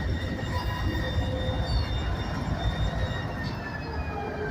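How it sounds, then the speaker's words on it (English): A CM44AC freight locomotive fitted with GPU equipment rumbles past at a CSX yard in Greenwood, South Carolina. Low rolling rumble, faint high wheel squeal, steady and moderately distant. "Another GPU equipped locomotive. CM44AC."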